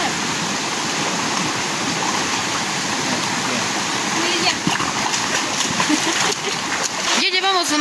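River water rushing and splashing, a steady loud wash that fills the whole stretch outdoors, with some brief sharper splashes near the end.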